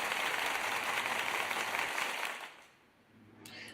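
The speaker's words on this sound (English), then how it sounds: "Just give yourselves all a big round of applause" Audience applause at the end of a live after-hours comedy hangout, a dense burst of many hands clapping that fades out after a couple of seconds, followed by a quieter moment.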